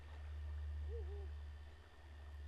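In the video game Breath of the Wild, an owl gives a single soft, low hoot over a steady low background hum, faint and somewhat distant, with no one speaking.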